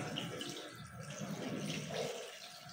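Water pours steadily into a pot of chicken feet adobo seasoned with soy sauce, a continuous close splashing and gurgling stream lasting the whole moment with no talk.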